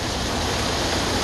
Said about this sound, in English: I heard a couple thunders, checked out the window, and it's fucking pouring